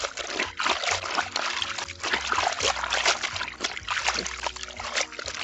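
Bed sheets are hand washed in a basin of water, giving continuous sloshing, splashing and dripping, fairly close and busy throughout with no pauses.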